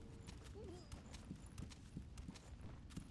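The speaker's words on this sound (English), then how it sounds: "I hear footsteps in that wall." Faint, steady footsteps in Sekiro: Shadows Die Twice, soft regular thuds under a low ambient hum.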